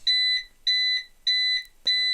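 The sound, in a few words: CyberPower UPS low-voltage warning beeping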